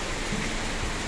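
Rain falls as a steady, even hiss with no breaks, fairly faint and heard only briefly, with no talking over it.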